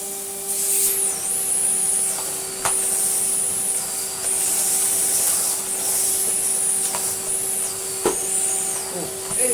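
A Henry HVR200 vacuum cleaner runs with a steady high-pitched motor whine and droning suction, its pitch dipping briefly now and then as the suction head is brushed, close and loud throughout.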